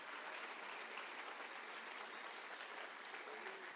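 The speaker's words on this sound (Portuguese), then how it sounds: "Se você crê mesmo, aplauda mais um pouco." A church congregation applauds in a steady, even wash of clapping that sounds somewhat distant and soft, continuing without pause and with no voice over it.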